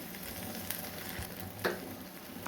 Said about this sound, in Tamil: வரமிளகா கருவேப்பிலை சேர்த்துட்டு கொஞ்சம் நல்லா வதக்கலாம்